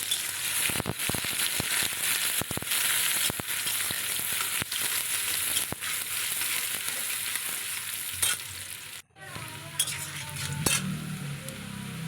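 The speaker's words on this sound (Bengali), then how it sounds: "যে কুচনো পেঁয়াজটা ছিল তেলের ওপরে দিয়ে" Chopped onion sizzles and fries in plenty of oil with cumin seeds and bay leaf, a steady close crackle broken by sharp scrapes of stirring in the pan, then a brief lull before the frying sound resumes.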